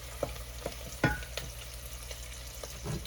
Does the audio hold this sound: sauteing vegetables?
yes